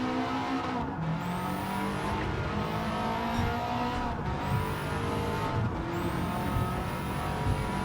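A 2004 Subaru WRX STI races in Gran Turismo 7 on a Tokyo circuit, its engine droning steadily at high revs with rising whine sweeps at each gear change. A brief tyre squeal comes as it power-slides out of a corner, with no talk.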